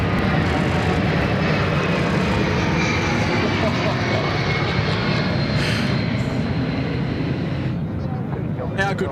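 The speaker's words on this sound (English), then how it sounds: "here we go, the C-17 now, the RAF C-17" RAF C-17 military transport jet flying over a beachfront airshow, a loud sustained broadband engine roar filling the whole stretch with steady intensity, with faint talk underneath.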